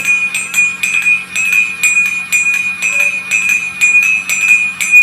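A small homemade automatic temple bell rings steadily with rapid, evenly spaced metallic strikes, a bright sustained tone humming beneath the repeated clangs.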